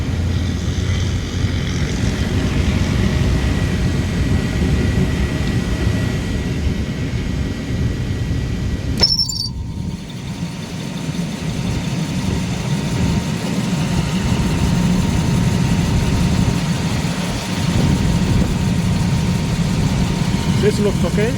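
A Lennox rooftop HVAC unit's gas burner roars in a steady low rumble after ignition, with a brief click partway through and someone talking over it.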